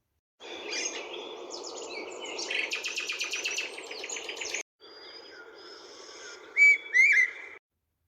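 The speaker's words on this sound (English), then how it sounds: "sometimes you can hear birds chirping." Tinnitus-like birds chirping and whistling in quick, high-pitched bursts, with a brief gap partway through and sharper calls near the end; no voices.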